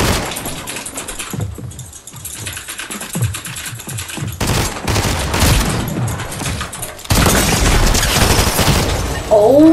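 Gunfire in the video game Fortnite, loud automatic bursts and scattered shots, sparse at first and then dense, sustained firing with booms in the later half.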